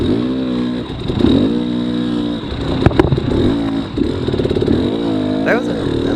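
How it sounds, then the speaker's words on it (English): Dirt bike engine on throttle during a rainy, muddy hare scramble race, revving up and down in rising and falling surges close by, with a rider talking over it. "I'm just barely cracking that throttle, getting the bike to grip"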